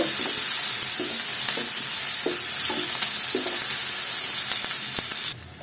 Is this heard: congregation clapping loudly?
no